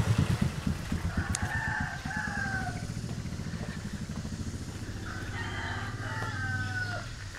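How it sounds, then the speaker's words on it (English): Roosters crow in the middle distance in Bali, one call after another, over the steady chugging of a nearby engine. "Hear the cockerels crowing now?"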